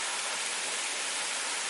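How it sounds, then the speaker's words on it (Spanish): The Pingón El Caneyu waterfall in Piloña, Asturias, roughly twenty metres high, roars as a dense, steady broadband rush, close and loud, with no voices over it. "en la cascada"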